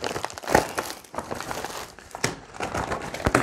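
A plastic Skittles candy packet from a US Army MRE crinkles and rustles in irregular bursts, handled up close with sharp crackly spikes between quieter moments.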